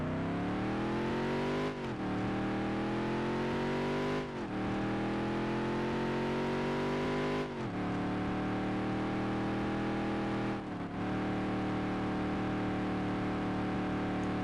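Race car engines in the video game NASCAR Dirt to Daytona, a loud, steady, close engine drone held at high revs, dipping briefly at four gear shifts or lifts before climbing again.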